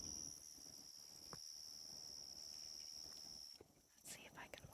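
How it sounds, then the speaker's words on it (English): On a summer night outdoors, insects keep up a steady, high, continuous chirring that fades near the end, with faint rustles and footsteps beneath and a soft voice briefly present. "Oh, do you hear those? I call them the summer bugs."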